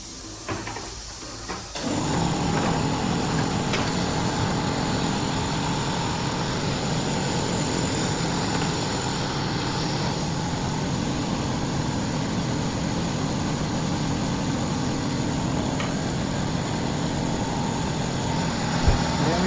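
An AU-5225 tire changer with an auxiliary assist arm and its own lift runs with a steady, loud whirring hiss. The noise starts after a brief quieter moment and holds constant to the end, with no voices.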